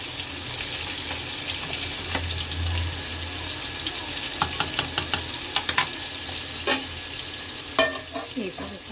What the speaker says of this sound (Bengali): ভালো করে ভেজে নিচ্ছি মাছের মুখগুলো